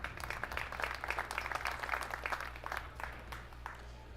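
An audience at the final of a men's world 10-ball pool championship gives warm, sustained applause, with steady clapping over a low hall hum.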